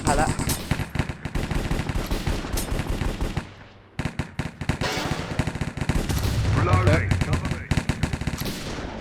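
Rapid automatic gunfire with bursts of shots fills a Minecraft game styled like CS:GO, loud and nearly continuous, with brief single shots and a short lull partway through.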